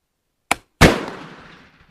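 A Danish 11.7 caliber Rolling Block rifle fires a reloaded cartridge with a delay: a short sharp pop, then about a quarter second later a loud close gunshot that rings and fades over a second.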